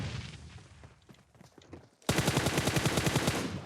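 In a one-man-squad ranked shooter match, a DBS double-barrel shotgun fires in a sudden, loud, rapid string of blasts that cuts in abruptly after a quieter stretch of fainter in-game action sounds.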